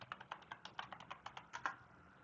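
Rapid typing on a computer keyboard, about a dozen light clicking keystrokes in a quick uneven run, close and fairly quiet with no talk.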